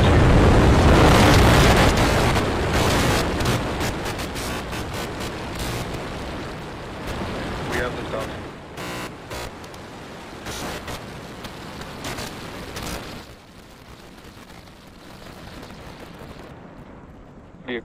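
SpaceX Starship rocket on Flight Test 4, a massive broadband roar at liftoff, loudest at the start, then crackling and rumbling as it gradually thins and fades toward the end.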